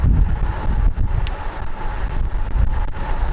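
Wind gusting hard across the microphone outdoors, a loud rumbling buffet that rises and falls throughout, with no voices.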